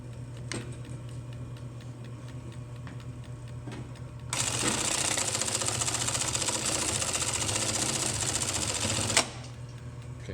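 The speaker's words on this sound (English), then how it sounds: "Again, this is a 68 class regular bobbin. It's a Singer machine." Roughly century-old Singer 68 class regular-bobbin sewing machine, rebuilt, stitching a box-and-cross pattern onto heavy 5100 lb nylon webbing: a loud rapid mechanical clatter running about five seconds, framed by quieter idle noise and clicks.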